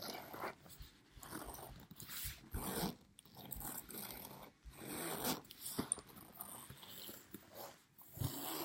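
Zipper on leather or fabric being slowly drawn open in close, quiet bursts of ratcheting teeth, several pulls separated by short pauses, with no talking.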